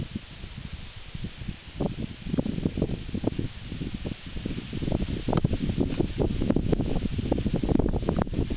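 Wind gusts buffet the microphone in uneven bursts while fishing outdoors, with rustling leaves mixed into the rushing noise.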